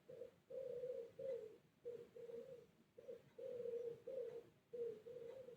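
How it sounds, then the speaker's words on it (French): A turtle dove coos from a rooftop near a chimney flue, heard from inside a garage: a steady, repeating rhythm of soft, low, muffled phrases with brief pauses between them, faint and alone. "Vous avez entendu la tourterelle?"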